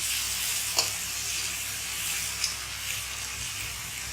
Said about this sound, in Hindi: तो इसको थोड़ा सौटे होने दीजिए अभी।